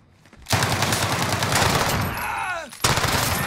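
An Uzi submachine gun firing in Call of Duty: Modern Warfare, a loud rapid burst that starts abruptly, sprays steadily for about two seconds, breaks briefly, then resumes, with faint in-game sounds underneath.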